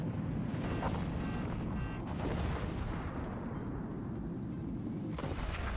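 Artillery and gunfire in the strategy game Forts, a dense continuous rumble of booming cannon shots and bursts layered over one another at a low, muffled level with no pause.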